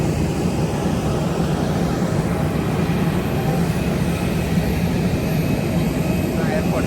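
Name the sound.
airplane jet engine at airport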